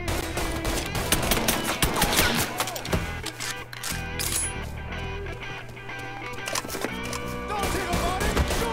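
Gunfire from the Mafia III video game rattles in dense bursts and rapid volleys, loud and continuous across the whole stretch over a layered game soundtrack.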